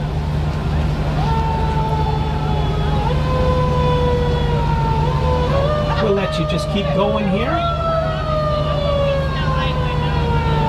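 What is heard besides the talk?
fire truck siren and horn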